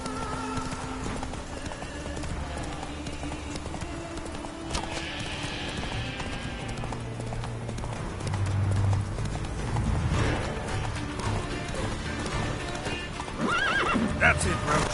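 Roach, the horse in The Witcher 3, gallops with steady hoofbeats and lets out a neigh partway through, while game music and occasional sound effects play underneath.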